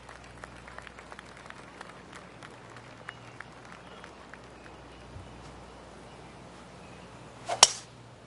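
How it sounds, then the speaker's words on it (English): Polite golf clap from a gallery in the PGA Tour 2K23 video game, faint and sparse, with scattered single claps and a short, sharper burst near the end. "Oh, golf clap."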